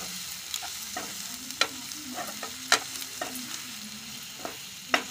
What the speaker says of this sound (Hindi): बिरयानी मसाला अच्छी तरह मिक्स करेंगे